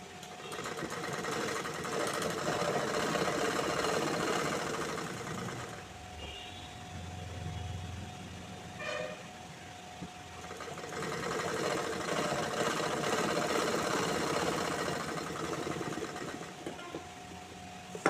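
A sewing machine stitches along a folded fabric edge in two long, steady runs of rapid mechanical chatter with a short pause between, close and clear, with no talk.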